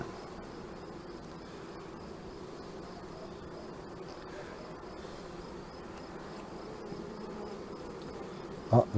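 Honeybees in a colony being prepared as a starter hive make a steady, close buzzing hum that holds throughout, with a faint sharp sound right at the end.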